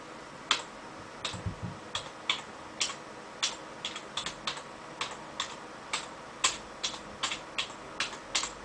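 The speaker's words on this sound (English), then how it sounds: "Type in CD, then C, referring to your C drive." Computer keyboard typing as commands are entered on a PC, a series of light, evenly spaced key clicks and taps, fairly close and alone.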